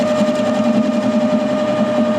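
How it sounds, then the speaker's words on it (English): A boring head chatters against a long-overhanging tool while machining a welded, remachined roller. It makes a steady, loud, buzzing whine with a strong sustained tone that runs unbroken and close, with no talking. "A little bit of chatter there because this is broken out quite a long way"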